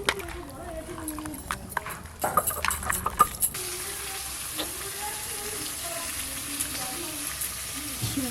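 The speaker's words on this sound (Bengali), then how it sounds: "প্রথমে মাছের মাথাগুলো ভেজে নেব।" Catla fish heads frying in mustard oil in a pan, a steady sizzle and crackle with some stirring and clatter, while people talk over the cooking.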